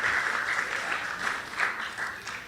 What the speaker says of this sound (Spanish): Dele otro fuerte aplauso a Dios